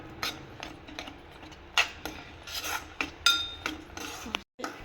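A spoon stirs a potato mixture in a pan on the stove, with repeated metallic scrapes and clinks against the pan at an uneven pace, close and fairly soft, with no talking.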